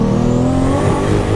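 A 1400-horsepower 3.4-litre turbocharged Toyota Mark IV Supra roars under hard acceleration, a loud continuous close engine note rising steadily in pitch with no voices.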